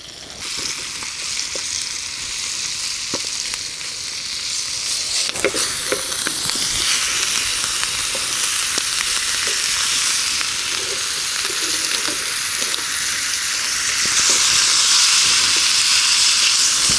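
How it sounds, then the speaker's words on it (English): A hash brown fries in oil on a sloped griddle with a constant bright sizzle and hiss that grows slightly louder toward the end, with faint crackles and no talk. "make sure the hash brown goes downhill so that it cooks, so that all the oil runs down to the hash brown for it to cook in"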